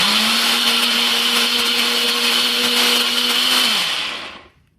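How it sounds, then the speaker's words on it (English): A blender whirs loudly and steadily through pepper sauce ingredients at one constant pitch for about four seconds, then winds down and stops. "And then I'll go ahead and blend"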